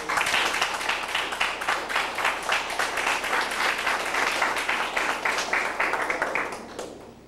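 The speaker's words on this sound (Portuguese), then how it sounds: "Vamos então uma salva de palmas para os três" An audience at a chimarrão gathering applauds three guests, a full steady roar of clapping that holds evenly before tapering off at the end.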